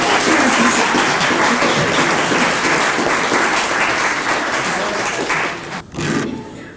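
Loud, dense clapping from a crowd, sustained and even for several seconds before dropping off abruptly near the end.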